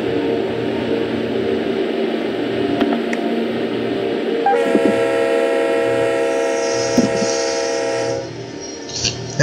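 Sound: train running in Run 8 railroad simulator video game

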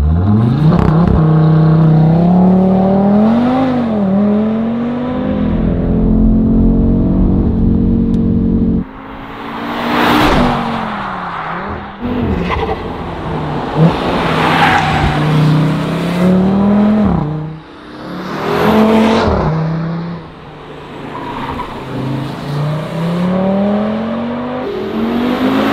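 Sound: Audi RS3 engine revving, Akrapovič exhaust

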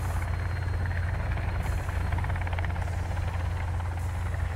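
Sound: helicopter flying in the video game Sons of the Forest

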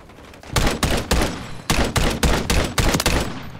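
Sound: semi-auto gunfire in video game Call of Duty Modern Warfare III

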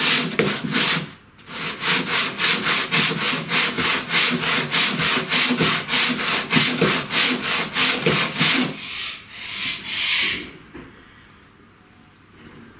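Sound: rubbing down wood part of CNC router by hand

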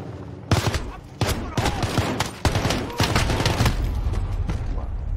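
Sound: gunfire in video game Modern Warfare 2

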